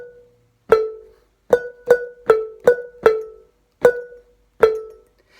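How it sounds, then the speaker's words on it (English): Seven sharp, damped handbell martellato thunks as the bell is struck on a table, each a short metallic knock with a brief ring that dies quickly, in an uneven rhythm with silence between. "We also have what's called a martellato, and that's when we thunk the bell on the table."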